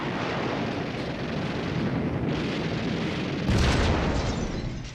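Hand grenades exploding in WW2 battle footage as German infantry takes Sedan, a dense roar of booms and bursts that swells louder near the end, with no talk.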